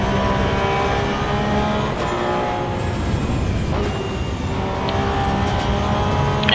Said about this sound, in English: the backfiring is incredible